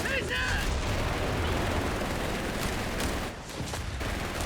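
Machine gun fire and explosions in the real-time strategy game Company of Heroes 3, a dense, continuous rattle of shots with booms, loud and close, with someone speaking over it.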